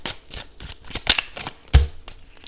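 Oracle cards shuffled by hand for a tarot reading, a close, crisp run of riffling flicks and soft slaps in an uneven rhythm, with one sharper knock near the end and no talking.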